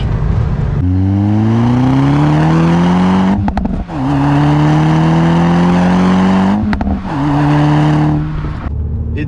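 A Volkswagen Golf 6 R four-wheel-drive car accelerates hard, its engine revving loud and close and climbing through several gears with brief dips at each shift.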